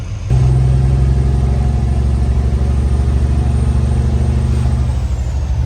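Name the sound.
truck engine idling and warming up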